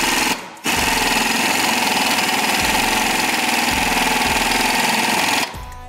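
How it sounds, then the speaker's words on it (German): A pneumatic impact wrench hammers steadily and loudly for about five seconds as it tries to turn over a moped engine with high compression, starting and stopping abruptly with no voices over it. "dann nochmal Schlagschrauber"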